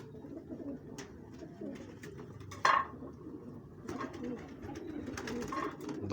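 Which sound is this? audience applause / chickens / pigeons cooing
pigeons cooing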